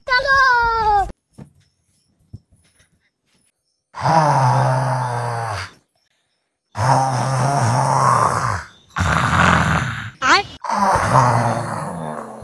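A loud, drawn-out snore in a comedy skit, imitated by a voice: several long, harsh, rasping breaths in slow repeated bursts, close and very loud, with brief speech and silence between them.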